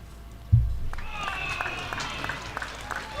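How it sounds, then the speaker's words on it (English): Crowd cheering at a lawn bowls match at the Bowls SA Masters, a sudden thump followed by a sustained wash of cheers and applause from spectators at moderate distance. "that cheer that you hear is definitely a bomb played by Marisol"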